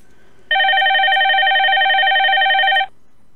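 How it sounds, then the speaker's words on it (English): A single loud electronic telephone ring tone sounds steadily for about two and a half seconds, close and clear against near silence. "My phone's ringing."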